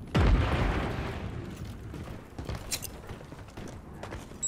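A grenade detonates in a Modern Warfare III beta match with a loud, deep boom whose rumble decays over a couple of seconds, followed by scattered distant shots and pops.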